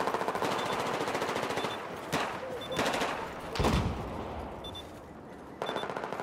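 Gunfire in a Squad Obliteration video game match: rapid automatic bursts and scattered shots run throughout, with a few louder nearby cracks standing out over continuous background battle noise.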